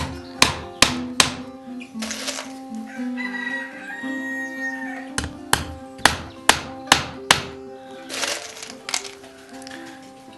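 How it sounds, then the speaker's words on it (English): Nails are hammered into a pallet wood plank, sharp loud strikes landing in irregular clusters over continuous rooster crowing and chicken clucking nearby. "So I put about 5 nails in."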